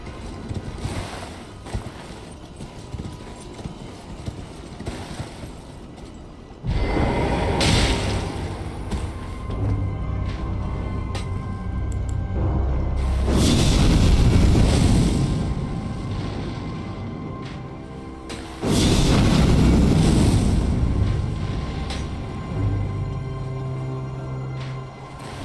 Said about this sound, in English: Why is there a fire chariot up here?